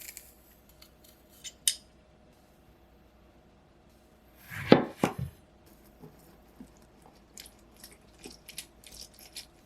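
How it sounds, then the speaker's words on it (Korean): A garlic clove being minced: a brief cluster of crisp, crunchy cuts midway, with a few scattered light taps and clicks before and after in an otherwise quiet kitchen. "마늘 한쪽은 다져 넣으세요"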